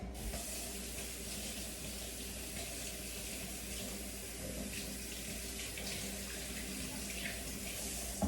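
Tap water runs steadily into a sink while red potatoes are rinsed, a continuous close splashing rush with faint clatter of handling and no break throughout.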